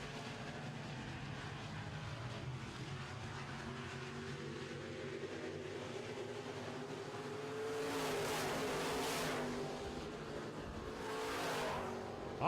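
Modified race cars in a Midwest Modifieds heat race roar steadily around the track, with engines swelling louder as cars pass close by, a continuous droning field of motors throughout.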